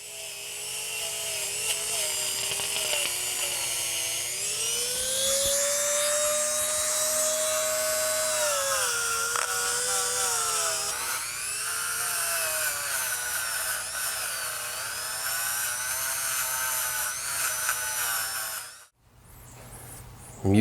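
A rotary tool spinning a brass bristle brush scrubs aluminum parts on a 1972 Honda CB450 motorcycle, a loud steady high whine that shifts in pitch as pressure changes, running throughout and cutting off near the end.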